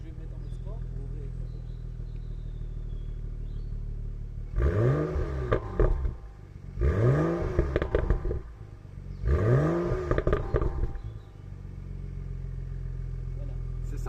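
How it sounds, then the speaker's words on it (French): A BMW M235i with a single turbo engine in sport mode revs three times in quick succession, each rev rising sharply and falling back over a steady idle, heard close up from outside the car. "au niveau du moteur, on va faire un petit démarrage, histoire de nous faire écouter la bête"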